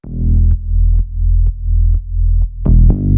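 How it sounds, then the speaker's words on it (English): A compressed synth bass line in Suno Studio pulses in loud, even notes roughly twice a second, with a brighter accented hit near the end and no voices. "Let's add in some compression to our bass line."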